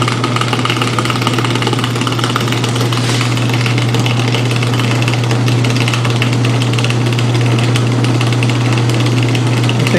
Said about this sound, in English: that little rattling you're hearing is that washer bouncing around a bit